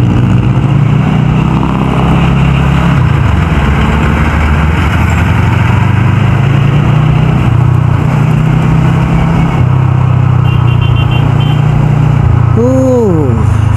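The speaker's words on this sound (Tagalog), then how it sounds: "Kaya lang talagang hindi mo maiwasan sobrang traffic." Voge DS500 motorcycle riding through heavy road traffic, its steady close engine drone running throughout, with a brief rising-and-falling tone near the end.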